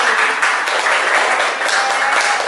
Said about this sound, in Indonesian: beri tepuk tangan buat kelompok mandiri